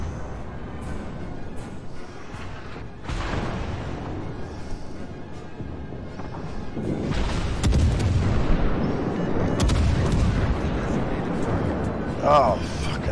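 Naval artillery fire in World of Warships, with heavy booming shots and rumbling impacts that swell louder in the second half, mixed under game sounds and a voice talking.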